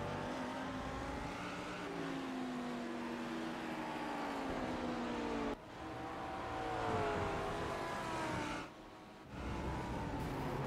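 A GT3 race car at Road America in the iRacing sim brakes hard, its engine pitch sweeping down steadily as it slows, with abrupt downshifts and a brief cut, loud and up close.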